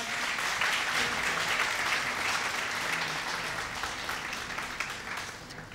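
Spectators at a women's rookie professional bowling tournament semifinal clap together to open the match, a steady, dense wash of applause that holds even throughout and fades slightly toward the end.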